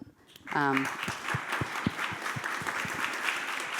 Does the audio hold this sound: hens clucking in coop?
no